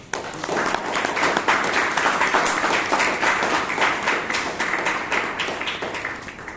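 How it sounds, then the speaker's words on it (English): A small Toastmasters club audience applauds a speaker, with dense, lively clapping that swells quickly and holds steady, fading slightly at the end. "What our Danya deserves is a round of applause."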